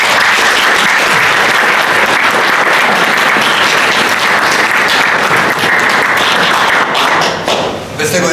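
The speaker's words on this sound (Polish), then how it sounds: "Wielkie brawo!" A large crowd gives loud, dense, sustained applause at a Janusz Korwin-Mikke event in Warsaw's Praga-Północ district, steady clapping filling nearly the whole stretch before easing slightly near the end.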